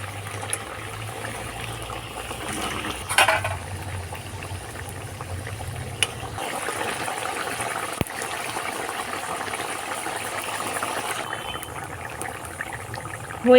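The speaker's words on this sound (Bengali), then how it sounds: "সর্ষের ঝোলটা খুব ভালোভাবে ফুটে গেছে" Mustard curry with fried bele fish bubbling in a pan, a steady soft simmering and gurgling with a few clinks and knocks from the utensils, no talk.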